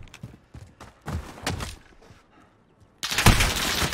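Gunfire in a first-person shooter match during sniping practice: a run of sharp shots and rapid bursts, ending in a loud, dense volley.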